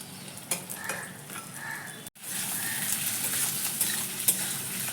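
Potatoes fry with garlic and onion in a pan, a soft, steady sizzle with light stirring and utensil clinks, briefly cutting out before resuming slightly louder.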